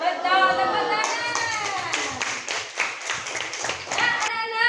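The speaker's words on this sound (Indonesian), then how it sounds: "Betul, tepuk tangan." Children in a classroom clap their hands in a quick burst of scattered claps, following a teacher's voice, with speech at the start and end around the clapping.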